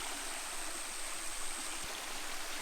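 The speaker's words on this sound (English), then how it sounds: "I'm focusing on the back bigger waterfall" A waterfall on the Smith Trail in Far North Queensland, Australia, pours in a steady, even rush of broadband water noise, constant and moderately near, with no voices.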